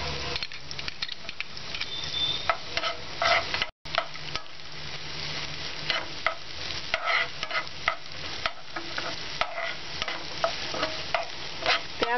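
Onions and green chili frying in a pan with a spoon stirring them constantly, a close sizzle under repeated scraping and knocking strokes with one brief cut-out, and no voices.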